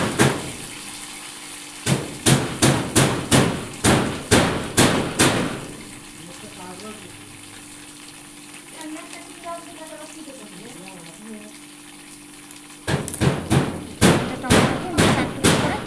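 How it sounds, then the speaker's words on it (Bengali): Knife chopping tomatoes on a cutting board for a fish curry with potato and pointed gourd: two bursts of loud, quick, evenly spaced chops, separated by a quieter stretch where a voice talks. "এবার আমি টমেটোগুলোকে কেটে নেবো।"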